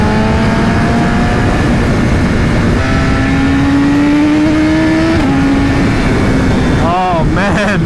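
A BMW S1000RR motorcycle with an Akrapovic exhaust, loud, steady engine drone rising in pitch through the gears with a quick upshift dip, under heavy wind rush.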